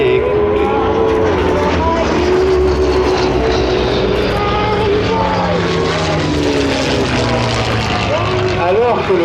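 WWII fighter planes with piston propeller engines at the Paris Air Legend 2021 air show, a loud steady drone with rising and falling engine tones as the aircraft pass, under crowd ambience.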